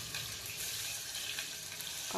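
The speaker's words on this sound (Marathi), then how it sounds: "कांदा फ्राय होत आहे." Chopped onion sizzles and fries in oil inside a pressure cooker for pulao, a steady close crackle with no talking.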